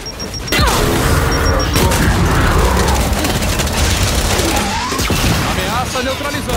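A frag grenade goes off in Gears 5 as a loud, sustained roaring blast amid dense combat noise, with a voice calling out over it.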